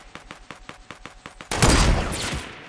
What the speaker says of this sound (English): he sees me, he's shooting me